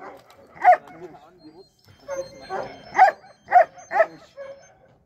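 A dog barks in several sharp, close bursts, with softer whimpering yips between them, while a person talks nearby.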